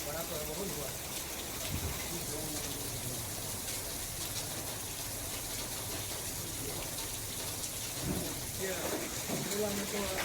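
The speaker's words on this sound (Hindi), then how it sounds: "तो इस बारिश ने उन्हें सुकून दिया।" Steady rain falls throughout as a continuous hiss, with occasional heavier gusts of downpour. Faint low rumbles sit underneath, and no one speaks.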